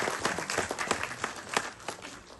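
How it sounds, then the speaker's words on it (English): A small audience gives a round of applause, with sparse, distinct hand claps in a loose irregular rhythm, fairly close and moderately quiet. "you do deserve a round of applause for that"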